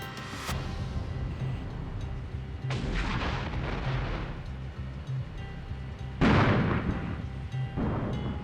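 Artillery fire in an armored warfare real-time strategy game: a few heavy, booming shots, with strong blasts near the start, around three seconds and a loud one past six seconds, set over a constant low battlefield rumble.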